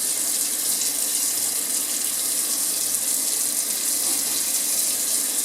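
Kitchen faucet running steadily with full water pressure, a continuous broadband rush of flowing water into the sink throughout, loud and close with no talk.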